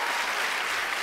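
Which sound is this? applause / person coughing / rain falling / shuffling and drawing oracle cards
applause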